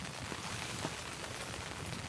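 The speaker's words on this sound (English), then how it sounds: "this rain, it's been going constant the whole time" Constant rain falls on a stormy, flooded campsite, a soft, even patter and hiss with no break, fairly quiet and steady throughout.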